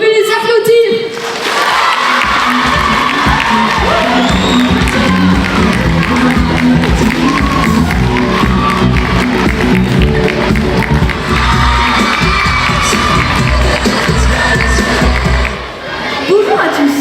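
An audience at the final of a French eloquence contest bursts into loud, sustained applause and cheering, with whoops and shouts, lasting well over ten seconds before fading slightly at the end.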